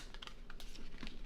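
Quick run of soft papery clicks and flutters as a thick tarot card deck is shuffled by hand, close and quiet.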